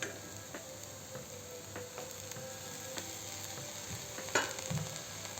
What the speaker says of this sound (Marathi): सांबारला पण छान मिक्स करून घेऊ।